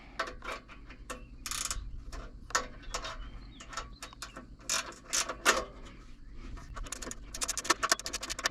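Screws are fastened back onto a DR field and brush mower with a ratcheting tool, producing quiet, close bursts of rapid clicking separated by brief pauses and small handling knocks.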